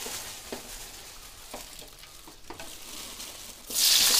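Onions frying in a pan for chicken tikka biryani give a soft steady sizzle with a few faint stirring clicks, then a sudden loud hissing surge near the end.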